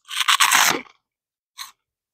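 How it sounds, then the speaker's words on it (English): Crunchy chewing of freeze-dried candy, close and loud: a dense burst of crisp crunches for under a second, a pause of silence, then one short final crunch. "It doesn't have much of a crunch even."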